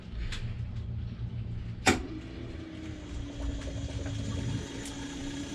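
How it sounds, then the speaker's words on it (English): A sailboat's watermaker motor starts with a sharp click, then settles into a steady, quiet electric hum that holds at a constant pitch in a calm cabin. "I'm going to go ahead and start the motor."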